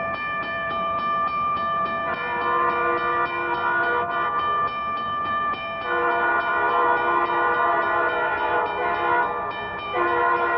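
A train passes along the track at speed with a loud, sustained multi-tone horn sounding in repeated long blasts over the rolling rumble of the cars.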